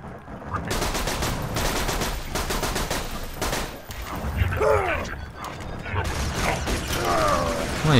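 Fire missiles launched at the player in the shooter Borderlands 2, a rapid rattling volley of shots and mechanical clatter with whooshing, whistling streaks, under occasional talk.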